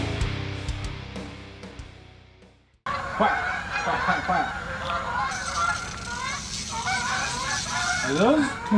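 Canada geese honk in repeated nasal calls outdoors, moderately close, following a stretch of engine-like rumble and mixed with background noise.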